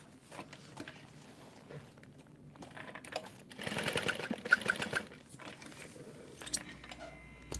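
A sewing machine runs in a few short bursts, loudest in a steady whirring run near the middle, basting stitches across fabric while sewing a Mini E; quiet handling noises fill the gaps.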